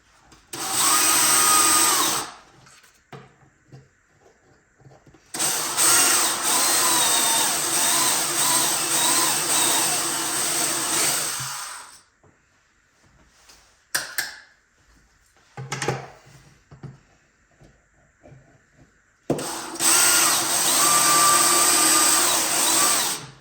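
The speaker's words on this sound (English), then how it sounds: "I'm going to go over the garbage can and do this because it's fiberglass. Just going to drill it through." A power drill bores through a fiberglass amplifier top held over a garbage can, sounding in loud whining bursts of a few seconds each, separated by quiet gaps and short clicks.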